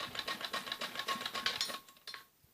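A sewing machine runs in quick rhythmic bursts while stitching piping around the neckline of a kameez, then slows and stops near the end, close and steady with no talking.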